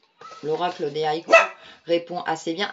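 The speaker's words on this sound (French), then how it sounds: "c'est mon chien qui vient d'aboyer" A house dog barks a few times in short bursts mixed in among a woman's speech, close by and partly covered by her talking.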